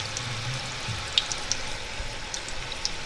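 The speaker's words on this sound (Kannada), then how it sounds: "ಮೊಟ್ಟೆಗಳನ್ನ 4 ಮೊಟ್ಟೆಗಳನ್ನ ನಾನು ಏನು ತೊಗೊಂಡಿದ್ದೆ ಅದನ್ನು ಹಾಕಿ ಫ್ರೈ ಮಾಡ್ಕೊತಾ ಇದ್ದೀನಿ" Four eggs fry in a little hot oil in a pan over a low flame, giving a soft continuous sizzle with a few faint pops and clicks.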